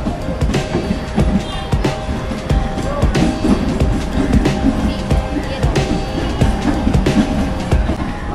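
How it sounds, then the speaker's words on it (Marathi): A train pulls into a suburban station on the line toward Ambarnath, with a steady rumble, rattling wheels and clatter filling the platform at close range, mixed with crowd and station noise throughout. "तर बघा, आपली ट्रेन आलेली आहे"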